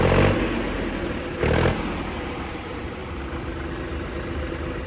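A Mahindra tractor engine idles steadily with a high, thin turbo whistle riding above the rumble, plus a brief louder burst partway through.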